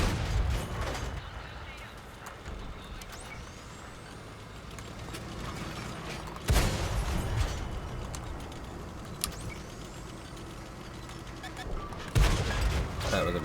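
Tank cannon blasts in World of Tanks, two or three sharp loud booms spaced several seconds apart over a rumbling engine drone, with someone talking in between.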